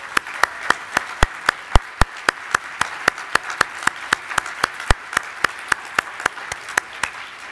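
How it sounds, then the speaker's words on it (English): Audience clapping at a gala dinner for sponsors standing to be recognised, a steady stream of sharp claps from nearby hands with a broad roomful of applause beneath, loud and sustained throughout. "let's give them a good round of applause"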